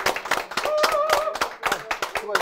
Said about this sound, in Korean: 오늘 수고해 주시는 두 분의 MC분들 박수 부탁드리겠습니다.